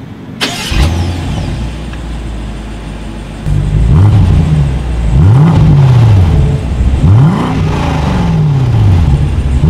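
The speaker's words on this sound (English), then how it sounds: "And as always, here is that exhaust clip." A 2020 BMW 750i xDrive in sport mode starts up with a sharp bark, then revs several times in rising and falling sweeps, loud and close, with a deep exhaust rumble between blips.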